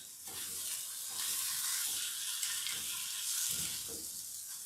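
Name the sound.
stirring sizzling pad thai vegetables in a pan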